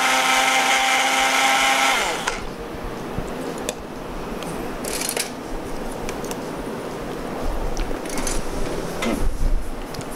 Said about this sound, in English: and once blend again